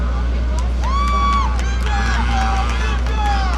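Crowd at a motocross race cheering and whistling over a steady low engine drone, with scattered shouts and whoops rising and falling across the moment.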